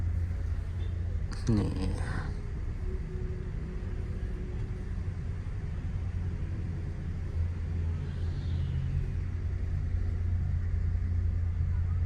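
A triple-decker luxury sleeper bus pulls away, its engine a steady low rumble that holds under brief talk, with a short clatter early on.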